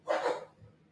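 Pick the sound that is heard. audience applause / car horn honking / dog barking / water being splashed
dog barking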